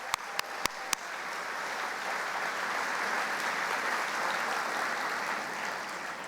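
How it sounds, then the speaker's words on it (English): Sustained audience applause fills a gala hall for a hospital foundation sponsor, steady and dense throughout, opened by a few sharp individual claps at the start. "Let's give them a huge round of applause."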